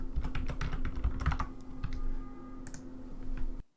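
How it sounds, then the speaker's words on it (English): Quick, steady keystrokes on a computer keyboard as a search term is typed, close and clear with a few short pauses between bursts of clicking. "So to look for items on fractions, I just type fractions in that second box."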